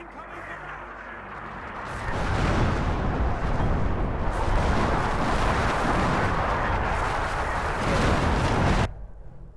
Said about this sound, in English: Next barrage imminent. Incoming barrage.